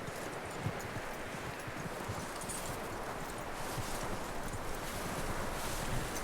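Horse hooves clip-clop steadily in a video game, a soft continuous patter under wind-like outdoor ambience, fairly faint and without talk.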